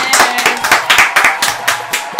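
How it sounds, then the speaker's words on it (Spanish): Audience clapping for Heidi at a Spanish-language event on the economy, a small group with distinct, uneven hand claps close by, steady and sparse rather than a roaring ovation, with no talk over it. "¡Un aplauso entonces para Heidi!"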